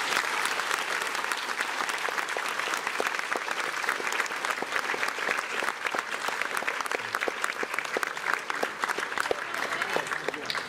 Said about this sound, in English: Let's give Liz a big round of applause.